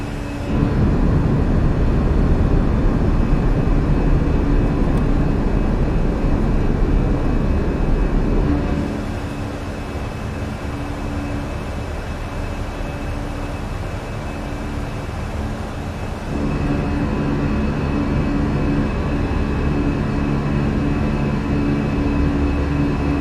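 A Fenix A320 airliner in Jetstar livery climbs out after takeoff in a flight simulator over New Zealand, giving a loud, steady engine roar that dips in level partway through and later swells again, with no talk.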